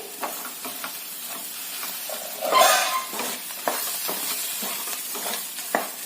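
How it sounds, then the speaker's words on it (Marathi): Spice masala of salt, homemade chilli powder and Kashmiri red chilli frying in oil for an eggplant curry, a steady soft sizzle with scattered stirring scrapes and one louder hiss burst midway, with no talk. "तेलासोबत हे छानस परतून घ्यायचं मसाला छान भाजला गेलाय"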